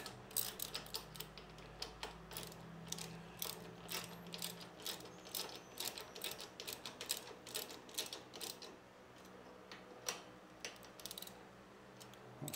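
A ratchet tightens the luggage rack bolts on a Royal Enfield Interceptor 650, giving a faint run of rapid clicking bursts in an irregular rhythm, close to the microphone, with no talking.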